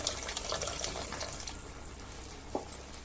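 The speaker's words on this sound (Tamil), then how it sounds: "நம்ம புளி கரைச்சி கொஞ்சம் ஊற்றணும்" Tamarind water, dissolved by hand, poured into a cooking pan for a traditional Tamil brinjal and field-bean thokku, giving a steady close liquid splash and trickle that fades toward the end, with no talking.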